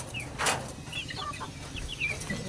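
Hens on a small farm cluck in short, soft bursts as they feed, with scattered chirps over a steady low background.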